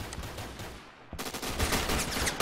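Gunfire in the Phantom Forces video game rolls on as a continuous loud barrage of rapid shots. It dips for a moment, then resumes as sharper, denser automatic fire.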